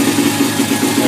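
A Honda XR100R motorcycle engine runs after a kick start, its loud, steady, low idle throbbing evenly and close up throughout.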